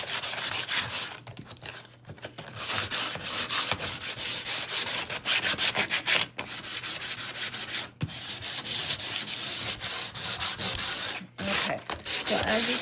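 Hand sanding of oak furniture to scuff off loose varnish, steady rhythmic rasping strokes of abrasive on wood, close and continuous with brief pauses between passes.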